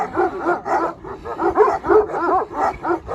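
Several dogs barking and yipping in quick, uneven bursts, fairly close and loud, with some whimpering mixed in.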